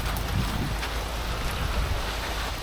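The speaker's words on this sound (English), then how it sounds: "Oh, a lot of rain." Heavy rain of big drops pours down outdoors at a home construction site, a dense, steady hiss close to the microphone with no voices.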